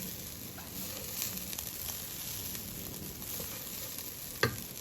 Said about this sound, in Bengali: আমি আমার নিজের হাতের বানানো ঘি দিয়ে পোলাও বসাচ্ছি।